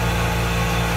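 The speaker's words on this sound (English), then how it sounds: "Got the compressor and the grinder going." Air compressor and grinder running steadily in a garage during a front strut replacement on a 2005-2010 Jeep Grand Cherokee, a continuous loud mechanical drone with a low pulsing hum and no pauses.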